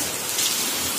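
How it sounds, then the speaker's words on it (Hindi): Heavy rain pours steadily during a flooding downpour at a home where water is entering the rooms, a dense, continuous hiss with no voices. "बारिश बड़ी तेज हो रही है भाई सर"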